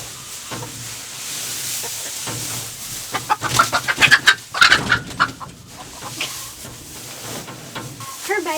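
An Ameraucana mix hen clucks in a series of short, fairly close calls that rise into a louder, excited burst and then settle again, with other birds faintly around.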